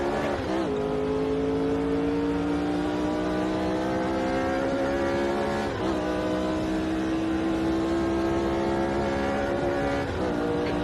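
A 1967 Formula 1 race car engine screams steadily at high revs in the Automobilista 2 racing game at Kyalami, South Africa, loud and continuous with brief dips at gear shifts.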